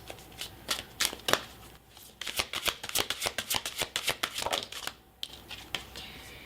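Chakra cards shuffled close up for a reading, a rapid run of crisp riffling snaps in quick bursts, with brief pauses between handfuls and a short gap near the end.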